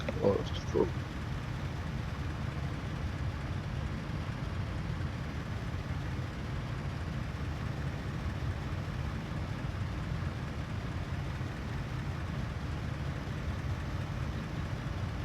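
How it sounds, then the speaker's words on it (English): A car engine keeps running in the survival driving game My Winter Car, producing a steady low droning hum that continues unbroken for the whole stretch after a brief knock at the start. "Okay, and our car is still running."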